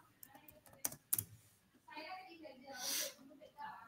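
Rapid clicking of computer keyboard keys during a search, a short burst of taps followed by quieter sounds, with some voice-like noise.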